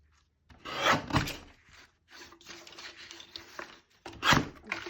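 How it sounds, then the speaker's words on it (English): A small paper trimmer slides through card stock at a cardmaking desk, giving a few rough, rasping cutting strokes in short bursts with brief pauses between, close and fairly quiet. "Then I'm going to grab my little trimmer in and just trim this down."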